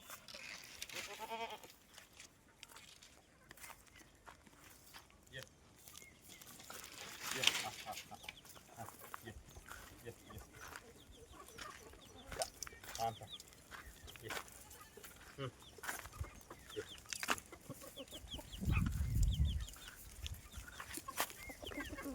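Quiet farmyard sounds: goats bleating and desi (native) chickens clucking at a distance, with scattered rustles and occasional faint voices.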